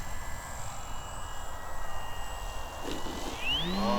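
Faint, steady hum of an FMS Beaver 2000mm radio-controlled model plane flying at a distance, its motor tone droning on with a slight rise near the end.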